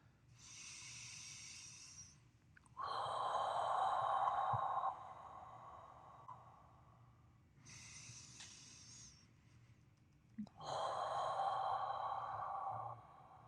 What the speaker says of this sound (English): Big deep breath in through the nose and out through the mouth